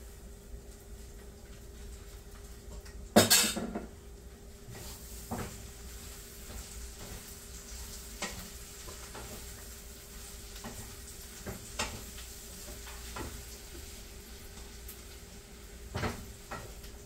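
Eggplant frying in oil in a pan sizzles quietly and continuously, with a sharp, loud clatter early on and occasional soft knocks and scrapes afterwards.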